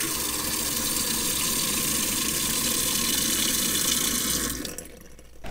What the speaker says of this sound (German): Einmal noch den Wasserhahn betätigt, damit auch das Mittel in den Rohren ist und auch unsere ganzen Rohre säubert und reinigt.